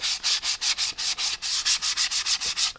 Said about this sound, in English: I sand that over as well.